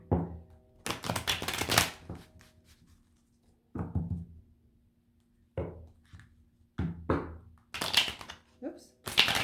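A tarot deck is shuffled in several rapid riffling bursts separated by pauses, close and crisp, with a voice talking between them.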